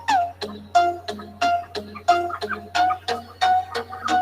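Chickens cluck in a steady series of short, close calls, roughly one every half second, over a low constant hum.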